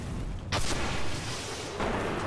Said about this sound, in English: It's time for my rocket launcher, bitch.